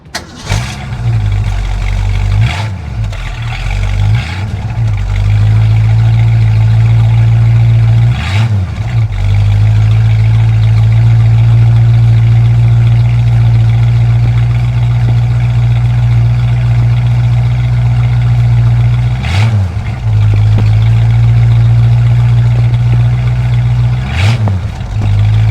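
A restored 1965 Ford Mustang engine cranks and catches, then settles into a loud, lumpy idle with a deep throb. Several sharp revs punctuate the steady rumble, and no voices are heard.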